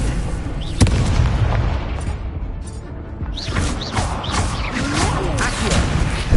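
Spell effects from Hogwarts Legacy on PS5 burst in repeated booming whooshes, one sharp crack followed by rolling fiery blasts and magical swishes layered over game sound.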